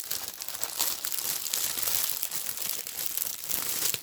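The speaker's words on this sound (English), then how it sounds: "Sorry for all the crinkling." Paper crinkling and rustling as a package is opened, a steady dense crackle close by throughout with no talking.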